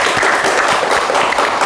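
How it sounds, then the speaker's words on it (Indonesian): Applause for a student group at the end of a classroom presentation, a dense patter of clapping that carries on steadily, close and fairly loud, for the short stretch. "Tepuk tangan untuk kelompok 3"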